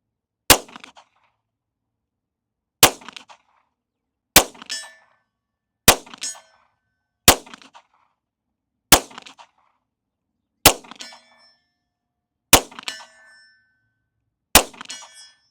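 A CZ 75 TS2 pistol fires nine evenly spaced single shots, each sharp crack followed by a ringing metallic clang from a steel target about 100 yards away, with silence between shots.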